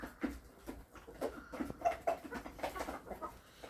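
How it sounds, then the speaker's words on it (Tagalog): Chickens, a large rooster and hens, cluck softly in short scattered calls, faint and a little distant, with light background noise. "Ang lalaki ng roaster ko at saka hens ko dito na mga manok."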